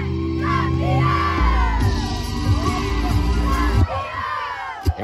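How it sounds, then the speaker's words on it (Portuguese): Crowd of young supporters chanting and cheering loudly after winning a Superliga Série Prata final at Casa de Portugal, a sustained roar of shouting voices with rhythmic chant bursts, dropping to scattered yells near the end. "Grito de campeão na tela da Crack TV."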